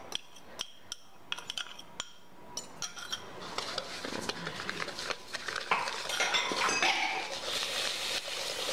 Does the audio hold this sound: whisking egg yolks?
yes